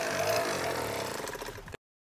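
A Piaggio Zip SP scooter engine revs hard up close in a sustained, buzzing whine that wavers slightly before cutting off abruptly into silence.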